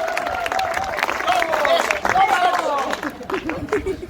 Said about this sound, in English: And you're all going to clap and cheer and bow for me.